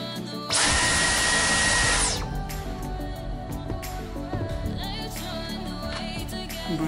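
A Dyson V10 cordless vacuum cleaner switches on at max power with a loud, harsh whooshing whine for about a second and a half, then drops away to quieter rustling and handling noises nearby.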